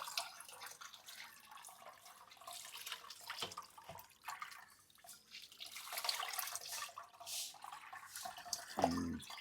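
Water poured over potted plants, irrigating them with a homemade fertiliser of banana peels soaked in water and rice-washing water; a soft, steady trickle and drip runs throughout, with a brief louder splash near the end.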